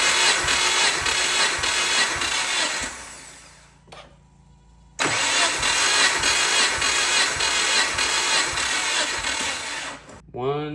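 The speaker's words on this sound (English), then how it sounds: "How slow this thing is cranking over" Subaru Forester XT with a forged engine cranking over during a compression test, a steady rhythmic starter churn that runs for several seconds, stops, then resumes near and loud.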